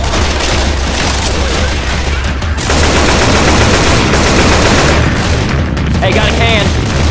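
Loud, continuous automatic gunfire and booming shots in a Left 4 Dead 2 zombie fight, close and relentless, with voices faintly under the barrage.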